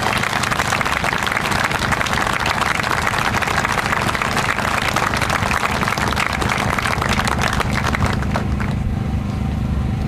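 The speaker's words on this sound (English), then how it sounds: "a round of applause" A crowd gives sustained applause for the crew at the USS Cowpens (CG 63) decommissioning ceremony, a dense, steady wash of clapping lasting about ten seconds before tapering off near the end.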